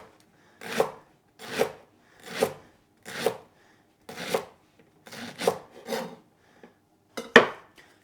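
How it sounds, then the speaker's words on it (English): A knife slices leek into rings on a cutting board, with about nine crisp, evenly spaced cuts, each a short crunchy rasp with quiet pauses between, close and clear with no talking. "So for the fried rice, I need some leek. So let's just cut that into rings."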